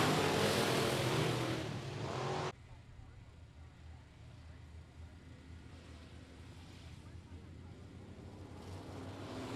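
Modified stock cars accelerate at I-37 Speedway: a loud roar of engines for the first two seconds, then a fainter, steady engine drone from farther off, with a commentator talking over it.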